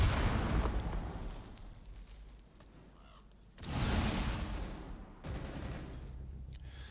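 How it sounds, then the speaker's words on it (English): Light machine gun fire in a Rainbow Six Siege esports match, heard as dense, loud bursts of automatic gunfire that start, cut out and resume over about seven seconds with no clear talk. "LMG letting go and AML finding the head there of Merlin"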